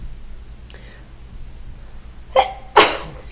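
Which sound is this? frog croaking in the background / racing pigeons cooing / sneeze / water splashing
sneeze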